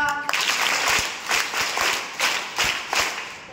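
A classroom group of school students claps for a team in a quiz round, a brief burst of uneven, rhythmic hand claps with separate sharp slaps, fairly close.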